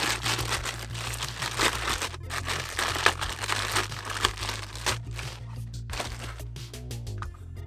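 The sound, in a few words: plastic packaging removed from ELAMOR M15 electronic door lock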